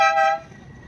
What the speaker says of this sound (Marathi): आता इथे खूप हॉर्न वगैरे वाजतात